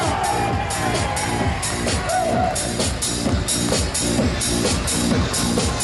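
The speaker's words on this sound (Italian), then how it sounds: "E facciamo un applauso!" Dense crowd din at the 2013 Treviso carnival parade, with applause and cheering blended into a steady loud roar and scattered sharp bangs throughout.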